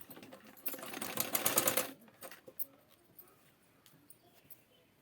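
A sewing machine stitching a blouse belt, a brief fast whirring run of stitches lasting about a second, then quiet handling clicks and rustles of fabric, no talk.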